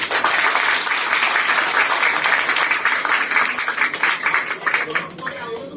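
A large seated audience of several hundred at a company group event breaks into continuous applause, loud and steady, with scattered cheers and voices underneath before it tapers off at the end.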